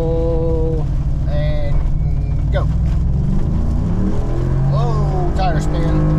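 A tuned Ford F150 with a 5.0L engine running E85 accelerates hard from a rolling start with tire spin, its engine note climbing and shifting through gears, loud and close under talking voices.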